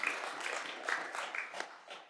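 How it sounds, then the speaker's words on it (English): Applause rises and falls in a Sheffield City Council budget meeting chamber, a fairly brief, moderately loud patter of many hands clapping, with a hint of voices mixed in. "I'm assuming that applause was for Councillor Fox"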